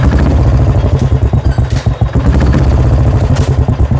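A Royal Enfield motorcycle with an aftermarket silencer packed with ceramic wool idles loud and close, a steady deep thumping exhaust with a fast, uneven pulse and mechanical clatter throughout.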